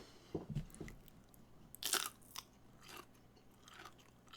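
Fresh green snacking beans crunch close to a microphone, a few sharp bites followed by quieter chewing, with no talking.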